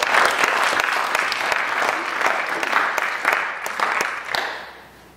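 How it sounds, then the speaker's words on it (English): A big round of applause from an award ceremony audience, dense clapping with a few sharp individual claps standing out, fairly loud and sustained before fading away in the last second. "please do give her a big round of applause"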